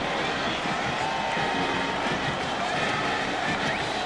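Stadium crowd noise fills the air after an extra point at a 2002 Miami vs Florida college football game, a dense, steady roar of applause and cheering heard from within the stands, continuous throughout.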